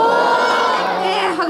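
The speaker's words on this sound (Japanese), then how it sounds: "拍手とおーという声が上がりました。" A crowd at a rugby team's fan event in Beppu cheers with a loud, sustained "oh" shout, dense voices rising and falling together over about a second and a half, with scattered clapping mixed into the roar.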